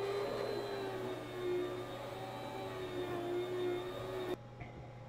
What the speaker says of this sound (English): And insert it into the machine and cut up onion